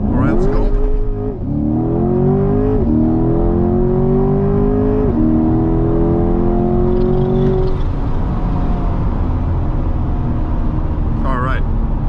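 A 2020 Chevrolet Corvette C8 3LT Z51 launches hard from a stop. The engine climbs through several rising, loud revs, each broken by a quick gear shift, then settles into a cruise, heard from inside the car.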